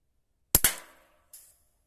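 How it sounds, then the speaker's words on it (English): A Romanian model 69 training rifle, Cold War era, fires quiet training rounds: one sharp report with a quick double crack and short decay, followed by a fainter metallic action click, close and alone. "There's one shot."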